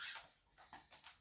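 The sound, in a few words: dog whimpering in the room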